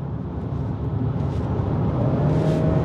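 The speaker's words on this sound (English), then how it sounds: "if you switch the mode from EV to hybrid, right away you will hear and you'll see the engine kick in" Petrol engine of a 2024 Lexus RX450h+ plug-in hybrid running in hybrid mode, a steady low rumble heard from inside the car that swells slightly toward the end, with no talking.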